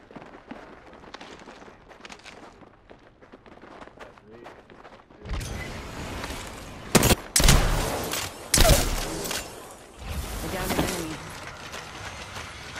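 Weapons firing in the Apex Legends firing range: quiet movement and footsteps at first, then sustained loud bursts of automatic gunfire with a few heavy sharp shots, voices talking underneath.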